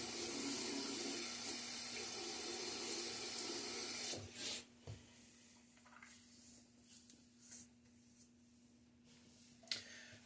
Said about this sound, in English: A little bit of water on my face here.